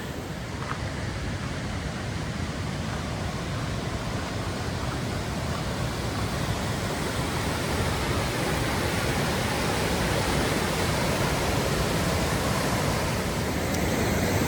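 A rushing river at a trail crossing on the Pacific Crest Trail near Pinchot Pass, running high and raging; a steady, loud, unbroken roar of water fills the whole stretch with no voices.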